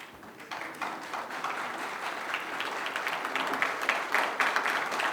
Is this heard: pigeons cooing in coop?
no